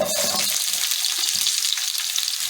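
Medium-sized onions, cut into large pieces, sauté in oil with a loud, continuous sizzling hiss that stays steady throughout the short moment, with no talking.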